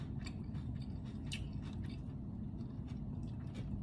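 Someone chews crunchy, lightly cooked vegetables and tomatoes from a Passover meal, making repeated close crisp bites and crunches over a constant low background rumble.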